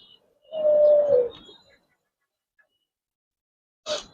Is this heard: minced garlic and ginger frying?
no